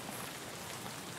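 Rain falls in the video game Escape From Tarkov, a dense, steady hiss of drops on surfaces, loud and unbroken, with no talk.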